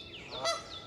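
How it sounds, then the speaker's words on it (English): A single goose gives one short, loud honk close by outdoors, with no one talking. "good grief, Goose! I'm trying to film a YouTube video"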